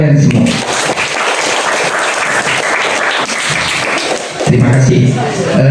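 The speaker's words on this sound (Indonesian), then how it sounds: "Sekali lagi, tepuk tangan untuk kalian semua." Sustained applause from an audience at an elementary school sixth-grade graduation ceremony in Indonesia, dense and loud throughout, with voices audible at the start and near the end.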